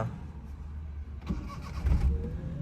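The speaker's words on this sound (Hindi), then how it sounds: "एक सेल्फ में स्टार्ट हो गई गाड़ी अपनी" A Maruti 800 car engine cranks on the self-starter and catches on the first try, a brief whirring crank followed by a low, rough idle rumble close by, with no talk.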